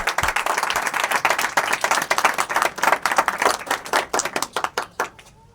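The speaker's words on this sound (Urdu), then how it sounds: "ہم خداوند کے جلال کے لیے ایک بار زوردار تالیاں بجائیں گے" A church congregation claps loudly together for several seconds, a dense burst of rapid applause that thins into scattered claps and stops near the end.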